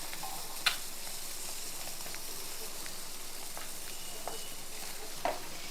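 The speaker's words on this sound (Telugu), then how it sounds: "ఇలాగా వేపాలన్నమాట." Eggs frying in a pan with a light sprinkle of black pepper powder for a black pepper egg fry, a steady low sizzle throughout with a few faint ticks and pops.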